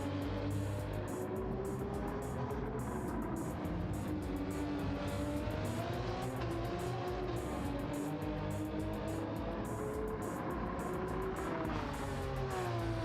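Racing cars in a Super GT–style video game round at Road Atlanta, among them a BMW M3, a 930 Porsche 911 and an A80 Toyota Supra RZ, drone steadily with engine tones rising and falling and tyres faintly squealing, continuous and fairly loud throughout.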